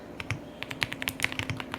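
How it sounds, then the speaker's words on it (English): Soft, uneven keystrokes tap on a computer keyboard in short bursts. The clicking is close and fairly quiet, with no voices. "typing away."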